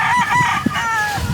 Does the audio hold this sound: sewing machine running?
no